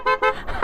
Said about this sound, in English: that sounds like a train horn.